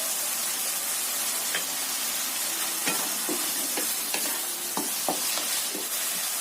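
Steady hiss of food sizzling in a pan with scattered scraping taps of a utensil stirring, fairly close and continuous, with no talking.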